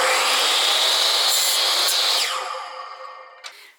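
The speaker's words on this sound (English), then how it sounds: "then we'll run over to the chop saw" A chop saw slices through a wooden dowel, a loud, close whining cut that holds steady for over two seconds, then winds down as the blade slows, with a brief clack near the end.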